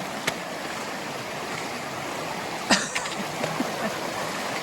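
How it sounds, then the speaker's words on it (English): A mountain stream beside a hiking track between Comyns Hut and Double Hut in New Zealand, heard as a steady broadband wash of flowing water with a few brief knocks and rustles near the middle. "we just keep following this stream, this river"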